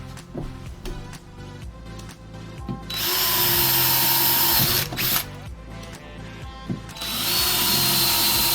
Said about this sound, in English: So you're just drilling a pilot hole, right?